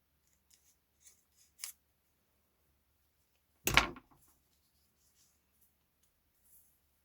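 Fabric with stitching is cut with scissors, a single sharp, close snip standing out in an otherwise quiet room, preceded by a few faint small clicks and taps.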